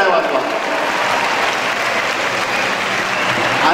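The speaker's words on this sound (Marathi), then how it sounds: "जोरदार टाळ्या जरा तुमच्यासाठी वाजवा" An audience claps at a college youth festival, a loud and dense burst of sustained applause from a large crowd that stays steady for several seconds, close and full.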